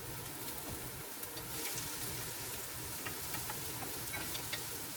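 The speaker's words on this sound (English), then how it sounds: "So we're sauteing our onions in olive oil." Onions sauté in olive oil with a steady, close crackling sizzle, broadband and hissy, broken by occasional stirring scrapes and pops, with no talk over it.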